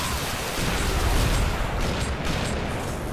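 Dense, continuous gunfire and booming impacts from the Family Guy Back to the Multiverse video game, a loud, unbroken wash of shots with no voices over it.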